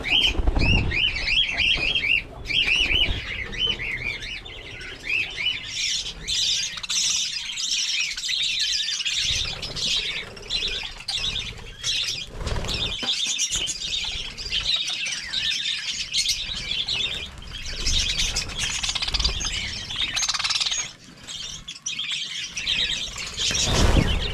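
A flock of birds chirps and squawks noisily and continuously, shrill overlapping calls near and loud, with occasional fluttering and rustling, no talk.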